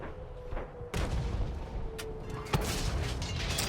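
Tank cannon fire in an online tank battle game, with a sharp boom at the start followed by several more distant blasts and crashes, quiet overall with someone talking softly over the action.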